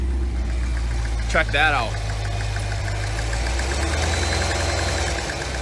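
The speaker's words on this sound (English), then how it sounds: "Nothing like a little bit of a knock in the engine here" A brand-new Cadillac Escalade-V with only 18 miles, said to have an engine knock, runs steadily with a deep, close idle throughout, while someone briefly speaks over it.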